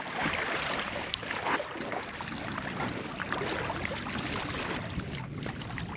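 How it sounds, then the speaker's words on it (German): A small yellow dinghy is paddled on open water near Wismar, with steady splashing and broadband rushing of water and wind, close and continuous, without talk. "ab ans Paddeln."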